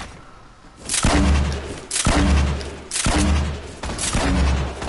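Grenade explosions in the video game Grill Sergeant, four heavy booming blasts spaced about a second apart, each with a deep thud and a rushing tail, loud and without talk.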